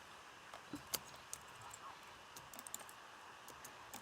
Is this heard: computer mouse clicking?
yes